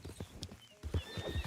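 A brindle thoroughbred horse in the video game Red Dead Redemption 2 clops its hooves in a quick irregular run of thuds, close and fairly quiet, with a snort mixed in.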